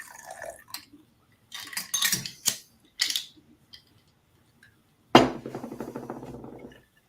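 Scattered clinks and knocks of ice cubes in a glass in an office give way to a drink being poured over the ice, a close splashing rush that gradually tapers off.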